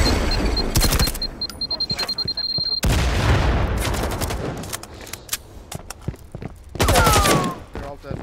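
A grenade explodes amid bursts of gunfire in the tactical shooter Firewall Zero Hour, with loud, dense volleys and booms that start and stop abruptly over several seconds.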